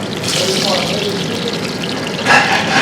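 Steady bubbling and hissing of liquid at a rolling boil in a pot of kaburga dolması (stuffed ribs), continuous throughout, growing slightly louder and brighter near the end.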